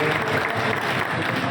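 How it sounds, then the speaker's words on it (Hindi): Audience applause at a political gathering, a dense burst of many hands clapping close and loud, sustained evenly throughout. "एक बार ताली बजा दो हमारे दिल्ली से जो आए"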